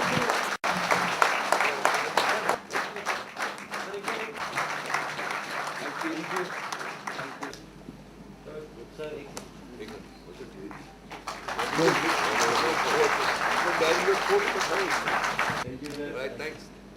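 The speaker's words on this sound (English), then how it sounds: "A round of applause, please." Audience applause at a Department of Culture showcase event in Jammu and Kashmir, a sustained crowd clapping that swells, dips briefly, then surges again before tapering, with voices mixed in.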